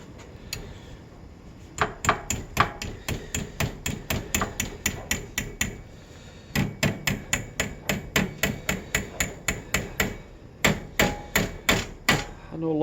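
A heated vise is struck with a hammer in long runs of sharp, evenly spaced metallic blows, loud and close, with short pauses between the bursts.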